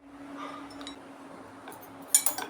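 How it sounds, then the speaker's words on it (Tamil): A fork pricks small holes in rolled wheat flour thattai dough, ending in a quick cluster of light metallic clinks against a quiet background hum. "சின்ன சின்ன ஹோல் மாதிரி இப்படி போர்க்கு வச்சு போட்டுக்கலாம்"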